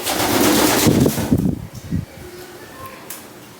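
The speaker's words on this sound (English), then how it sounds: "when they flap their wings, the air current is so strong from the pigeons flapping their wings" Pet pigeons bathing in a water tub, with a burst of loud splashing and rapid wing flapping that stops abruptly, then quieter room sound with faint soft noises.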